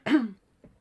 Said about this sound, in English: I just have to cough.